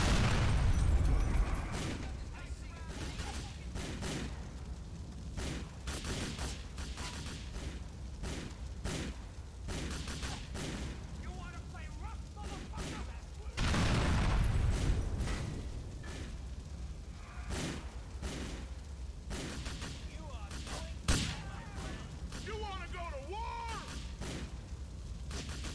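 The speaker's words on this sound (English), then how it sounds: "Explosions in this game are so good." Explosions and gunfire from GTA IV: heavy booms and crackling bursts of shots repeat across the stretch, with a loud blast at the start and another around the middle over a constant rumbling din.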